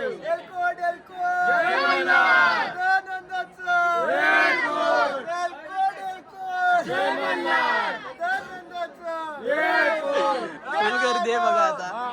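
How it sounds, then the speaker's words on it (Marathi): Dense crowd chatter and overlapping voices in a packed queue at the Khandoba temple in Jejuri, a steady close hubbub rising and falling in waves with no single voice standing out. "हे खूप बघा गर्दी."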